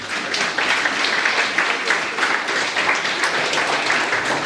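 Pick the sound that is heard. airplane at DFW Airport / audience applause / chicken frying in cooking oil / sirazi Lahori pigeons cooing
audience applause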